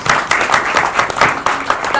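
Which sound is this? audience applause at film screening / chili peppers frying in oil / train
audience applause at film screening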